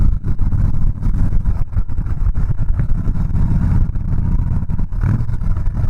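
Harley-Davidson Softail Slim with a 103ci engine rumbling steadily while riding, a loud, deep, continuous low throb with slight rises and dips in rhythm and no talking.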